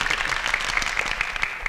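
Audience applause at a ceremony, a dense, steady wash of clapping filling the room without pause throughout.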